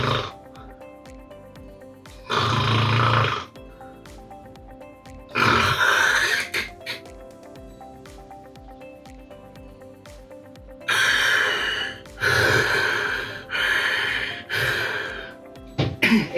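A voice imitates snoring with sleep apnea: loud, rough snorting snores come in uneven bursts separated by quiet pauses, ending in a quick run of closely spaced snorts.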